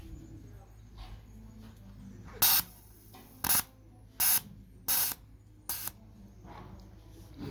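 Short bursts of a fuel injector being pulsed during a home cleaning, five sharp hissing sprays spaced about a second apart over a low steady background hum.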